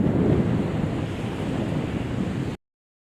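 Strong wind roars steadily across the microphone by the sea at Panguil Bay near Tubod, Lanao del Norte, a dense rushing blast that stops abruptly.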